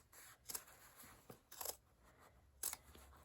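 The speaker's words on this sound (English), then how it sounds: "I just make a little snip." Scissors make a few quiet, crisp snips through the fabric of a sewn laptop case, three or four short cuts in close succession with soft handling noise between them.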